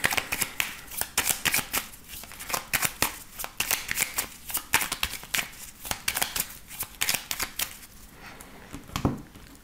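Oracle cards being shuffled by hand, a continuous run of quick papery riffles and flicks at close range, alone without talk.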